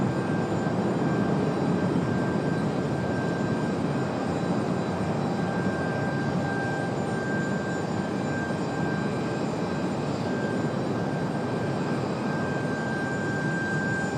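An airliner roars steadily down runway 23 right at Raleigh-Durham International Airport on its takeoff run, a loud, continuous jet engine rumble with a faint whine that holds for the whole stretch, with no voices.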